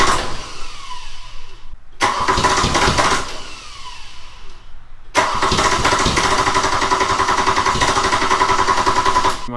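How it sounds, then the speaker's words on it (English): A 1989 Nissan 240SX, long unstarted and with no coolant, cranks twice with whirring starter attempts before catching and settling into a loud, steady idle, heard up close. "we're gonna go ahead and try and start it up"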